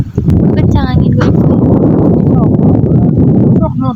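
Strong wind buffets the microphone with a constant loud low roar during olive picking, with faint voices and rustling mixed in.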